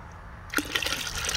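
Water pours into a pot for red pozole, a broadband splashing rush that starts abruptly about halfway through and keeps running steadily, close and moderately loud, with no voices.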